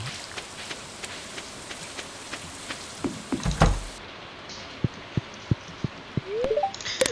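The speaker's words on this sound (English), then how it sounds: "And it's raining, of course." Steady rain patters in the Stardew Valley farming game, a soft continuous hiss of drops on the ground with a few sharper taps and small thuds scattered through, no voices over it.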